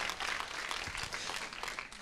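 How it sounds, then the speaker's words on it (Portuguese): A church congregation applauding, dense continuous clapping from many hands filling the room at a moderate level, steady for about two seconds before easing slightly. "Dê uma salva de palmas a Jesus."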